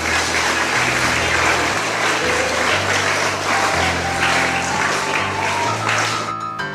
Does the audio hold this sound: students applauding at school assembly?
yes